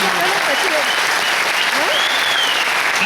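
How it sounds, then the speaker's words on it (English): Loud, sustained applause from an audience at a rural national quiz final for children, a thick continuous roar of clapping with voices faintly audible underneath. "Put your hands together for these children."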